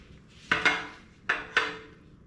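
A large knife slicing a homemade double cheeseburger, heard as two pairs of sharp metallic clacks against a plate, close and otherwise quiet.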